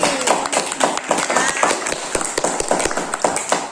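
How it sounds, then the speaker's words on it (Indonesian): A class of students claps together indoors, a loud, close run of quick uneven claps that keeps up steadily throughout, with some voices faintly underneath. "Beri tepuk tangan nih."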